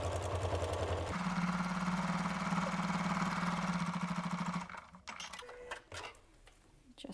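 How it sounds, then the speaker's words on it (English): Sewing machine top stitching a lined zipper pouch sewn from an old damaged quilt at a stitch length of 3, a steady close mechanical whir for about four and a half seconds, then stopping into faint handling noises. "I do recenter that needle, and I top stitch at a stitch length of 3."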